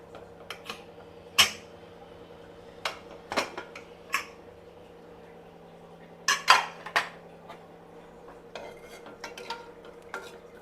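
A pressure cooker lid is opened after cooking drumstick sambar, with a few sharp metallic clinks and clanks of the lid and pot scattered over a quiet kitchen hum.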